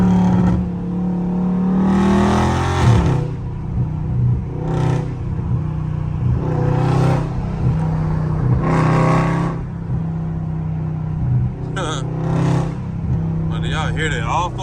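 A deep 392 V8 engine in a Dodge Charger rumbles steadily and is revved repeatedly in short bursts in traffic, close and loud, with someone talking over it.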